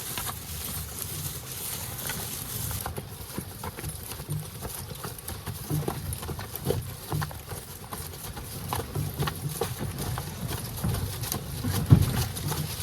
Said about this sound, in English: Well, we're walking back toward the barn. Horses always know, and they always go a little faster back toward the barn.